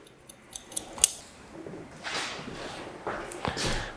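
Scissors snipping through hair during a men's haircut in a barber studio, a few sharp close snips early on followed by softer cutting sounds, with no talk.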